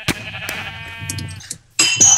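Sheep in the Minecraft video game give a short, nasal bleat up close, then a brief pause, followed by a burst of other game sounds.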